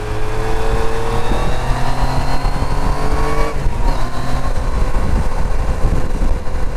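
A 2019 Yamaha Niken GT three-wheeled motorcycle with its MT-09/FZ-09 engine pulls hard in third gear around 6,000 RPM, a loud, steady engine note with rising harmonics and a brief shift or dip partway through, heard close under wind rush.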